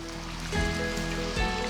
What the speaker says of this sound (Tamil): இப்போ நான் வந்து கொஞ்சமாக தண்ணி ஊற்ற போகிறேன்